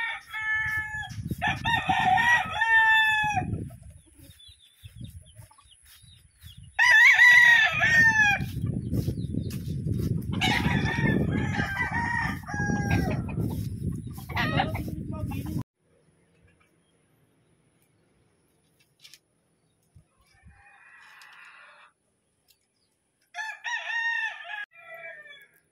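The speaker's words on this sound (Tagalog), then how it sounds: "ito na po ang mga alaga naming mga manok" Roosters crow loudly in repeated bursts over steady hen clucking and farmyard noise, then a quiet stretch before one more crow near the end.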